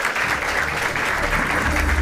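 Audience applause at a gaming championship event, a steady wash of many hands clapping at once, loud and continuous throughout.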